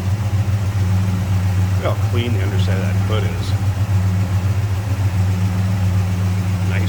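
A 1968 Dodge Charger hardtop with a 383 V8 idles steadily with a deep, even rumble, while someone talks over it close by.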